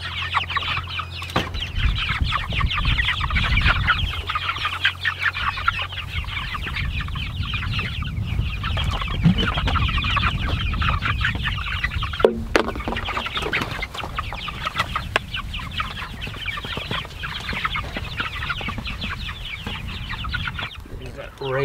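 A flock of fully feathered chickens clucks steadily inside a coop, a busy, continuous murmur of calls with occasional louder squawks, while a person moves about nearby.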